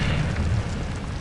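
In the Hogwarts video game, an Incendio fire spell erupts in a dense, roaring whoosh of flame, loud and sustained across a brief moment with no voices over it.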